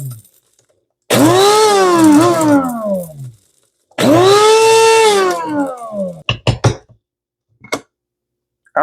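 Electric grinder pulsing dried cayenne peppers into powder: two loud whirring bursts of a few seconds each, separated by silence, followed by short clattering knocks.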